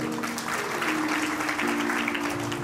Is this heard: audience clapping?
yes